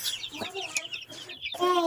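Broiler chickens about 45 days old clucking while pecking and tearing at spinach leaves, with short, close, irregular clucks and calls across two seconds.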